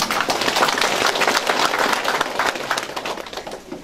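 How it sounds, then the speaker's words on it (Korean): Applause from the audience at a Saenuri Party provincial chairman's legislative report meeting in Muan, a dense, steady wash of clapping lasting several seconds and tapering slightly toward the end. "이럴 때는 박수 한번 쳐주시죠"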